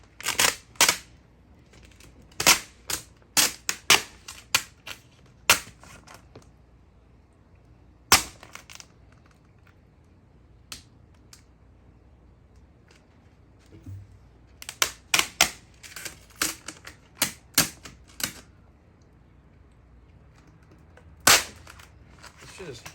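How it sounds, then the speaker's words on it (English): Vinyl banner tape is peeled off a truck windshield in sharp, crackling tearing bursts that come in irregular clusters with quiet gaps between, close and distinct. "This shit is hard to peel up."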